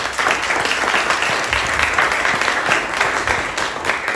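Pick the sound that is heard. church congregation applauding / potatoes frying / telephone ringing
church congregation applauding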